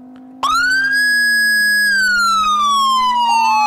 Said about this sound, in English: There's loud sirens,